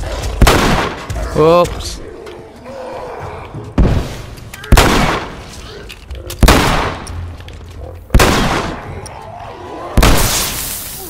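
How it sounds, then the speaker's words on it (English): Hunting rifle fire in The Last of Us video game: about six loud, sharp shots spaced a couple of seconds apart, each with a booming tail, and a voice speaks briefly between them. "Hunting rifle."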